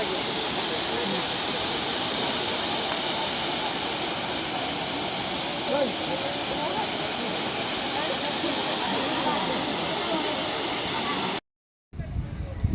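Steady broadband roar of a waterfall inside Simlipal forest, a dense continuous rush of falling water close by that holds level throughout before a brief cut near the end.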